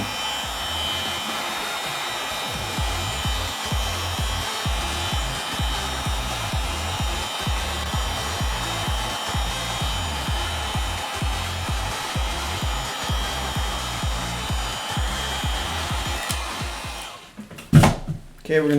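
Heat gun blowing hot air onto an iPhone 8 Plus screen to soften its adhesive during a screen replacement, a steady loud whoosh lasting most of the time before brief handling noises at the end.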